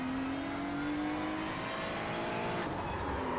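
GT3 race car in a sim racing game at Motegi, heard from onboard: a steady, loud engine drone rising slowly in pitch as it accelerates, with a brief tire squeal as the rear slides near the corner.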